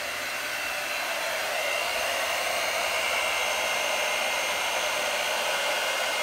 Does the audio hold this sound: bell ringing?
no